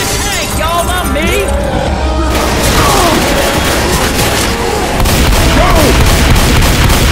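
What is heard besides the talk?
gunfire shooting at the Tank in video game Left 4 Dead 2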